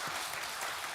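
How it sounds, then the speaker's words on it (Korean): Congregation applause at a Korean church Sunday service, a steady dense wash of clapping filling the whole short moment, fairly loud and close. "우리 다섯 사람을 위해서 여러분 축하와 격려의 박수 하시겠습니다"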